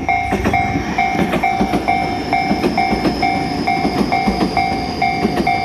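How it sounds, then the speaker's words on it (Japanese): A Tobu Urban Park Line 60000 series train rumbles past up close with rhythmic clickety-clack of wheels over rail joints, while a level crossing bell dings steadily and repeatedly in Kasukabe. "今アーバンパーク野田線6万系が入ってきますね。"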